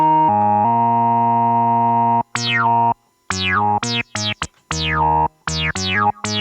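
Novation Bass Station soft synth playing an acid tone with high resonance, first a sustained low note, then a run of short notes with sharp resonant filter sweeps that snap down from bright to dull, loud and alone.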